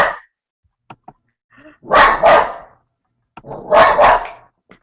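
A dog barks loudly nearby, two pairs of sharp barks separated by a pause, with small yips and quiet sounds between.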